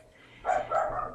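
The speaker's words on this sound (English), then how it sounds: "Sorry about the dogs in the background, by the way." Dogs bark in the background, a couple of short, muffled barks at a distance, fairly faint and not close.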